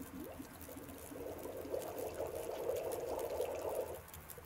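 Water boils in a pot in the survival game The Long Dark, a soft steady bubbling and hiss that holds for several seconds at low volume.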